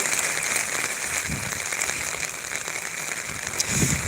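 Steady rain during flooding in Sylhet hisses and patters on surfaces in a dense, continuous wash of sound.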